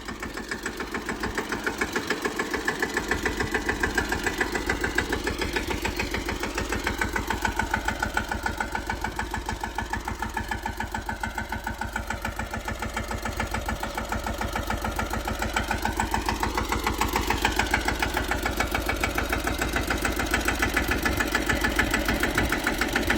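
A tractor's diesel engine runs steadily throughout, a low chugging rumble with a knocking rhythm and slight rises in pitch, close by and with no voices.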